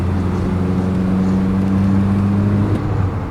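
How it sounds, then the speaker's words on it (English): A car engine held at full throttle in a low gear during a road test after a repair, loud and steady with a sustained droning tone that drops off near the end. "And full throttle."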